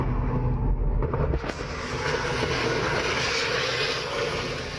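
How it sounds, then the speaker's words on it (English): Medical helicopter coming down onto a busy Sacramento highway at night, a continuous loud roar of rotor and engine noise blended with traffic rumble, steady throughout with a slight shift partway. "This medical helicopter comes crashing down Monday night on a busy Sacramento highway"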